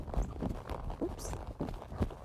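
Horse hooves loping at a faster, engaged gait during a conditioning ride, with a few soft hoofbeats in steady rhythm under a rider's talking.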